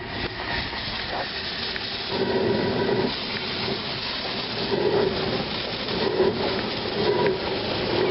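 A coal-fired steam locomotive rolls off a turntable, giving a continuous hiss of steam with regular, heavier chuffs and mechanical clanks repeating every second or so, close by and fairly loud.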